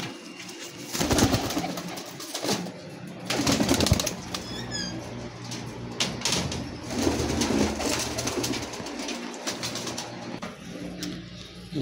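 Teddy pigeons in a loft give soft, low cooing amid repeated bursts of wing flapping and rustling. Small chirps come through now and then, all close and fairly loud, with no talk.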